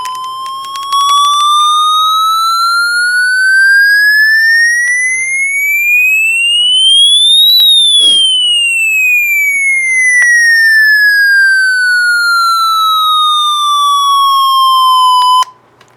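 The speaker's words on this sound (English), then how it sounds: "Let me get a siren test." A Midland HH50 weather radio sounds its siren test: a loud, pure electronic tone sweeping steadily upward, then gliding back down, continuous for about fifteen seconds before cutting off.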